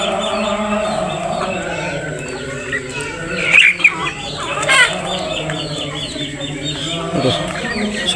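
Chickens cluck and chirp around a rural yard at evening feeding time, steady and fairly close, while people talk over them.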